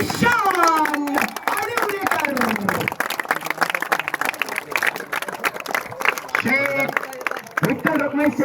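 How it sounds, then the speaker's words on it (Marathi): Audience clapping rings out for award recipient Eshan at a sports prize ceremony, a dense patter of hands that swells through the middle, with a voice speaking over the applause at the start and end. "ईशान, टाळ्या तुम्ही फार कमी वाजवल्यात."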